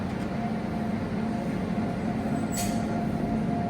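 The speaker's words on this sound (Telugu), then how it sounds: "పక్కనే ఒక వ్యాప్ 7 లోకోమోటివ్ ట్రైన్ని పుల్ చేసుకుంటూ వస్తుంది" A WAP-7 electric locomotive hauls a train past near a loco shed, giving a steady heavy rumble of rolling wheels with a brief high squeal partway through.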